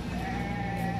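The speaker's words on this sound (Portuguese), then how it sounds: "Esse aqui é um borrego lindo aqui" A lamb bleats in a sheep and goat sale pen in Dois Riachos, Alagoas, one loud, close, sustained nasal cry over a dense background of farm noise.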